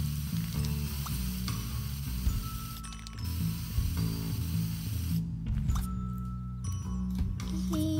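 Bug spray hisses onto cockroaches in The Sims 2, a continuous spraying rush mixed with clicking, ratchet-like game effects and brief breaks, steady and moderately loud with no voices.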